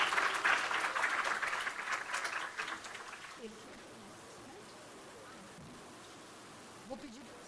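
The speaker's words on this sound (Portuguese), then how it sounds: "Por favor, uma salva de palmas" Audience at a national ports congress award ceremony applauds, a dense burst of clapping for about three seconds that then fades into quiet room tone with faint murmurs.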